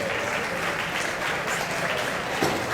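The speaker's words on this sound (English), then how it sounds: "Let's give her a round of applause." Steady applause from an audience at a picnic pageant honoring Miss Cherokee, a dense patter of clapping filling the whole stretch at an even, fairly loud level.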